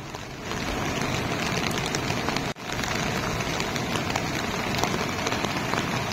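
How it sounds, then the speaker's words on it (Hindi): Heavy rain pours down steadily in Jammu and Kashmir, a dense, loud, close hiss of drops on surfaces that continues unbroken apart from one brief dip midway; no voices are heard. "बारिश का सिलसिला लगातार जारी है"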